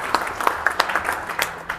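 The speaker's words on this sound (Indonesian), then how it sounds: "tepuk tangan untuk kita semuanya" Short, sparse applause from an audience at a police senior leadership school lecture event, a handful of distinct claps in an uneven rhythm, fairly close and moderately loud.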